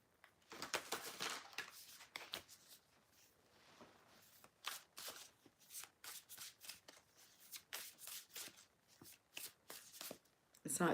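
Divine Feminine Oracle cards are riffled and shuffled in repeated crisp bursts with soft papery flicks between them, and a voice speaks throughout.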